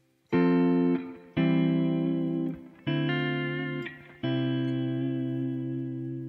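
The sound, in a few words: guitar chords with descending bass line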